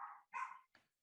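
A dog barks three times at a distance, the first two long and rough, the last short, with quiet gaps between them.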